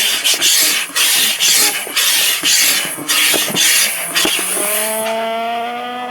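Air is pumped into an inflatable at a campsite in wind and rain. Loud, close, rhythmic whooshing strokes repeat about every second and then give way to a rising whine that fades out toward the end.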